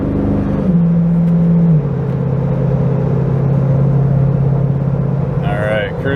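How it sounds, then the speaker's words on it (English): Truck with custom true dual exhaust on the interstate, a steady loud cabin drone and rumble as it downshifts and accelerates, engine pitch shifting then holding, with a voice talking near the end. "once I get up to interstate speed here, after I get around these semis, downshift. Easily accelerate."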